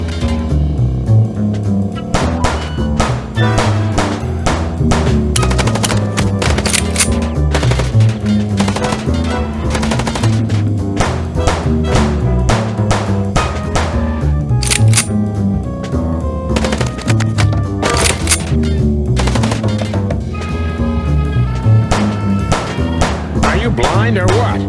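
Rapid gunfire crackles through a car chase in the noir detective game Chicken Police, with sharp repeated shots in loud bursts over a driving musical backdrop, punctuated by thuds.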